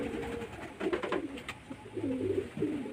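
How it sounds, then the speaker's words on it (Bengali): Madras pigeons of an old home-kept line coo in low, rolling phrases, repeated several times at close range and fairly steady in loudness, with no talk over them. "অনেক পুরনো পায়রা আমার আমার বাড়িরই পায়রা"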